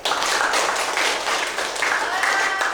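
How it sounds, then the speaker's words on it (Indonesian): Brief round of classroom applause from students, a dense, even patter of many hands clapping with some voices underneath. "tepuk tangan untuk jawaban dari Jeffrey"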